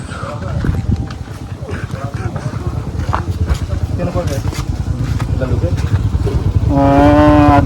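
Motorcycles pull up at the entrance of a tourist spot, their engines rumbling nearby while people talk over them. A steady engine tone rises near the end.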